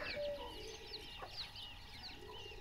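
Chickens cluck softly at a distance, with scattered short calls and chirps over a quiet outdoor background.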